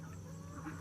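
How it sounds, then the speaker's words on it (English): Backyard chickens clucking near a coop, soft and fairly close, a brief low murmur of fowl sounds over steady background hum. "Oh, now everybody's trying to get out of the chicken coop."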